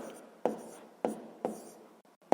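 A pen writes out a sixth-grade math calculation on paper in four or five short, sharp scratchy strokes, close and quiet, with no talk.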